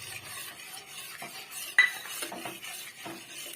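A spoon stirs milk thickened with dissolved cornflour in a pot, giving soft scraping swirls with a sharp clink of metal against the pot partway through and a few quieter knocks after, with no talking.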